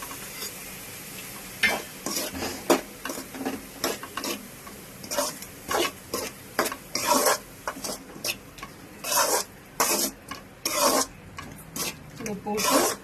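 Chopped medium tomatoes for a soya chunk curry are stirred in a hot pan, giving repeated rhythmic scraping strokes over a soft, steady sizzle, fairly close and with no talking.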